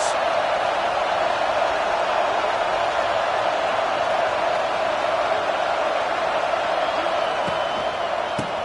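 Home stadium crowd at an Ole Miss at Oklahoma college football game, a steady, far-off roar with faint cheering throughout.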